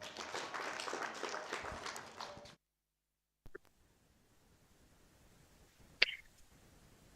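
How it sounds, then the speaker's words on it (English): A conference audience at a nursing awards event gives a brief round of applause, faint and distant, that stops abruptly after a couple of seconds, leaving near silence broken by a couple of small clicks. "can we give the person a round of applause?"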